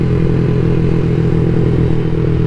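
A CSC SG250 motorcycle fitted with a MotoCult Stage 4 kit rides along, a loud close engine drone with rattly mechanical clatter holding steady throughout, no speech.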